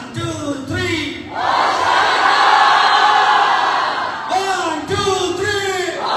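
A church congregation shouts "Hosanna" together in one loud, sustained collective cry, rising after a short counted lead-in and then falling back into talk.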